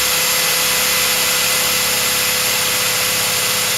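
A drill runs in one steady, loud whine as it bores a hole through a Jonsered 625 II chainsaw cover held over a sawhorse, with no talking.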